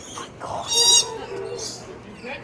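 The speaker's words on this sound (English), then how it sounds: "That was a parrot." A bright yellow parrot gives a loud, harsh call near one second, with a couple of softer squawks after it over a faint background hum.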